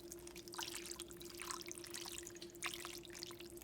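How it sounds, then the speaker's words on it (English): Water poured over barbecue sauce and ramen noodles to thin the sauce, a steady soft trickling and splashing stream for a few seconds, close by with a faint constant hum underneath. "I'm going to pour it on top of the barbecue sauce on top in order to thin it all out"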